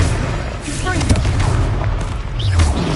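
A Confringo blasting curse explodes in the Hogwarts Legacy video game, a heavy booming blast inside a dense, loud battle soundscape, with voices shouting over it.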